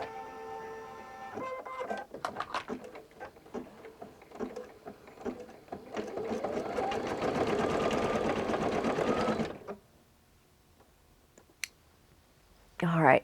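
A sewing machine quilts a scrappy fat-quarter fabric quilt with stop-start stitching bursts that build into a steady, close, whirring run, then cut off to near quiet; a voice speaks over parts of it.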